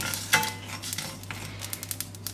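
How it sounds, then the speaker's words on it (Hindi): Metal spoon scraping and clinking in a pan while poppy seeds and desiccated coconut are stirred for Nargisi chicken masala, a quiet run of small taps and scrapes with a faint hum beneath. "इन्हें यहाँ पर अब आप जो है चमचा हिलाते रहें ताकि ये लग ना जाए"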